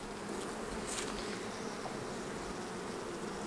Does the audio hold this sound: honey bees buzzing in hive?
yes